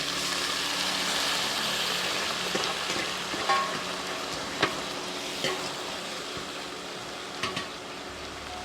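Banana flower sautéing in hot oil with garlic and mustard seeds for a pickle, a continuous close sizzle with occasional stirring clatters and pops.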